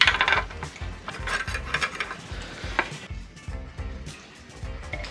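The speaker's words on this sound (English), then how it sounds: "For the race, I gradually tapped it into place." A bicycle fork crown race is tapped into place with cone wrenches, producing a quick series of close, light metallic taps and clinks that grow softer toward the end.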